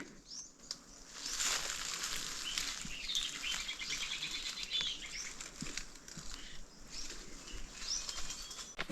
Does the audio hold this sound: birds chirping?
yes